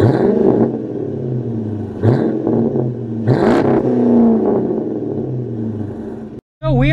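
A Dodge Magnum R/T with a 5.7 Hemi V8 and a loud exhaust rumbles steadily close up while driving off, with revving swells partway through and a brief cutoff near the end.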